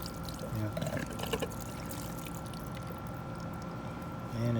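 Water dripping and trickling from a condensate drain pipe that has just been unclogged, a continuous wet splashing and trickle under a noisy background, with a few louder splashes near the end.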